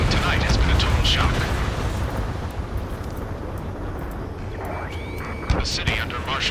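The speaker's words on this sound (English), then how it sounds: "Gunfire and a roar of jets echoing through the streets." Loud, rumbling roar of jet engines in Ace Combat 7, with broadband noise and sharp bursts of gunfire echoing through city streets, one distinct bang near the end.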